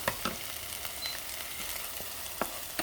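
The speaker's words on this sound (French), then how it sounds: "j'ai haché l'oignon avec l'ail. Donc là je fais revenir." Chopped onion and garlic sauté in a pan for a salmon tagliatelle, producing a soft, continuous frying sizzle with occasional light clicks of a utensil stirring, fairly quiet and without speech.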